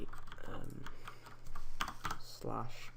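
Rapid keystrokes clatter on a computer keyboard while a command is entered for the Essentials plugin, with a voice talking over the steady typing throughout.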